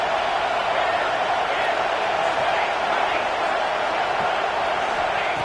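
Stadium crowd in College Football 26 roaring steadily at a red zone stop, a dense, loud, unbroken wash of distant cheering voices with no distinct words.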